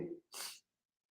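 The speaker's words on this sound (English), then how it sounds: "I'm going to sneeze." A single sharp sneeze bursts out right after a brief breathy intake, close and loud, then silence follows.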